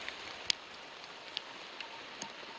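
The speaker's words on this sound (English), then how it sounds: "It's still raining." Faint, steady rain falls on a forest trail in Shawnee State Forest, with a soft hiss and a few scattered sharp drips close by. No talking.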